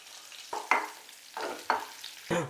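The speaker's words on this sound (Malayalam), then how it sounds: "കുറച്ച് വെളിച്ചെണ്ണ ഒഴിച്ചു കൊടുക്കുക. അതിലേക്ക് കട്ട് ചെയ്ത് വെച്ച ചെറിയുള്ളി ഇട്ട് കൊടുക്കാം." Cut shallots hitting hot coconut oil in a pan for a fish curry tempering, sizzling in several sharp bursts that hiss up and fade, close and fairly loud.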